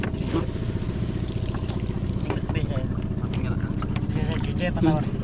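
A boat motor putters steadily nearby over water as the boat passes fishing nets, with people talking loudly over the engine noise.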